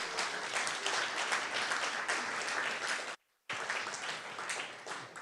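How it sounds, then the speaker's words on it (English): Conference audience applauding an award announcement, dense sustained clapping that cuts out briefly for a moment before resuming at the same level. "Yay, applause."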